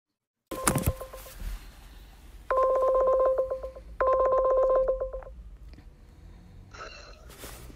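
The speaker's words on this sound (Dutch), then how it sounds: "Wij hebben een telefoongesprek tussen Gila en Christensen opgenomen" Touch-tone dialing beeps on a recorded telephone call come in quick bursts of evenly spaced tones, three clusters heard close and clear over a faint line hiss, followed by a brief higher ringing tone.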